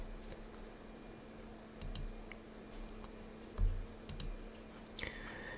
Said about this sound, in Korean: 마우스 오른쪽 버튼을 클릭하고